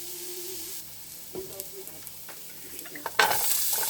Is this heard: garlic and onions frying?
yes